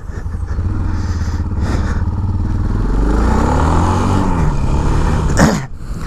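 A Yamaha XT660 single-cylinder motorcycle revs hard for a wheelie, its engine climbing in pitch and then dropping off, loud and close with some clatter.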